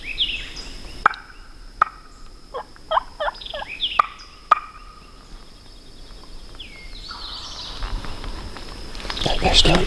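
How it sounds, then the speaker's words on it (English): A wild turkey gobbles in several rapid, rattling bursts, fairly close, followed by distant bird calls and rustling in Alabama woods. "I think we just heard a turkey gobble"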